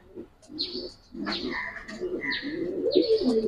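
Racer pigeons cooing close by, soft throaty coos mixed with brief chirps and calls in an irregular sequence over faint background noise.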